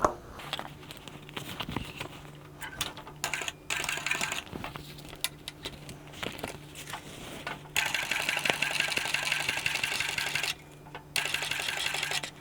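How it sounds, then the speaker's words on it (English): Sewing machine topstitching down each side of a seam on a small fabric tote bag, running close and steady in bursts with brief pauses, a rapid needle patter over a low motor hum, with no talking. "let's top stitch down each side of that seam, holding the flaps open"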